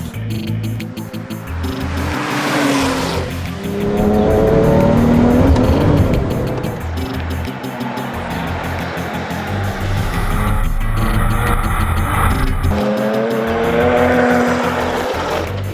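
A powerful sports car engine roars and climbs through gears on a wet track, rising and falling in pitch with brief tire noise, loud and close.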